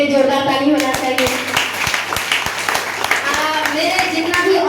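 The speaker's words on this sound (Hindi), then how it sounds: "बड़े वाले चंदन सर के लिए जोरदार ताली होना चाहिए।" An audience claps for a teacher at a school event in a rhythmic, steady beat of loud hand claps, mixed with voices and music.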